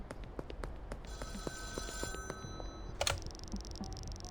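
A payphone rings in the video game Schedule 1, a bright metallic bell trilling against faint ticking and clicks, with a sharper burst partway through, moderately loud and without speech.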